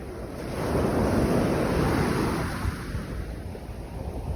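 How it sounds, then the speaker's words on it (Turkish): Wind rushes past the microphone at the seashore, swelling louder midway then easing, with surf rumbling low underneath. "Evet rüzgarın şiddeti artıyor"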